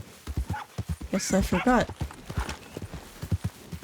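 Hooves of a stallion clip-clop steadily in Red Dead Redemption 2, an even rhythmic trot close by, with someone talking over it and a brief whinny partway through.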